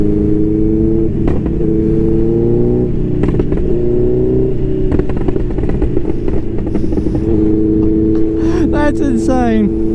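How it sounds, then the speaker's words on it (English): A Yamaha R7 sport motorcycle with a loud aftermarket exhaust rumbles and revs, crackling with rapid pops and bangs on deceleration, riding close and steady throughout, with a voice talking over the engine. "Like the pops and bangs from this thing is crazy."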